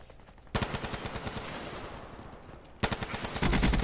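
Rapid automatic gunfire from the video game Black Ops 3, two loud sustained bursts of repeated shots separated by a short gap, close and dense, with no talking.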